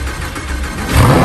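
A damaged Lamborghini engine starts up with a loud, close engine roar that swells in the last moments as it catches.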